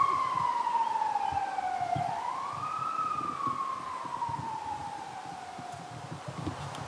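Siren played over a 2011 Volvo S60 T6 car audio system from a Bluetooth-streamed phone, a wailing tone sweeping down, rising again and slowly falling, moderately loud and steady throughout with no talk.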